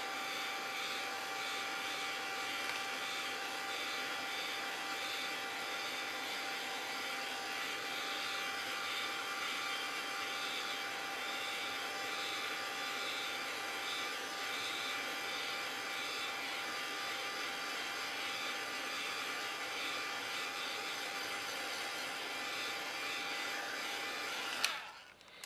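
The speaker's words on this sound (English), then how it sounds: "oh, not the glue gun, the heat gun. Dry off as much as you can." A heat gun blows steadily to dry a handmade craft flower, a continuous airy whoosh with a faint whine that holds even and close for the whole stretch before cutting off abruptly at the end.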